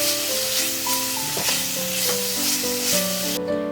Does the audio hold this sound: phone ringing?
no